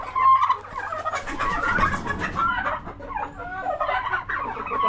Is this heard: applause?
no